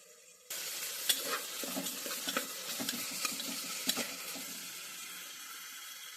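Tomatoes and chopped carrot pieces for dal khichdi sizzle and fry in a pan, with a spoon scraping and stirring in irregular bursts over a steady hiss that begins abruptly.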